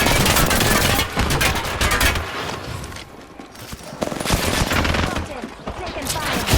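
Video game gunfire rattles in dense automatic bursts, loud and close, with brief lulls around the middle before heavy firing resumes, and a voice speaks faintly underneath.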